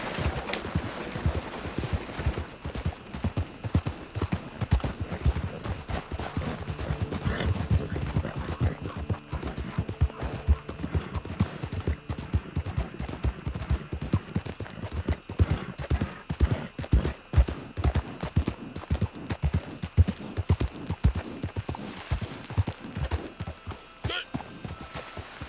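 Horse hooves gallop in the video game Red Dead Online, a fast, even run of close thudding hoofbeats that keeps up for nearly the whole stretch, with only a few short breaks in the rhythm.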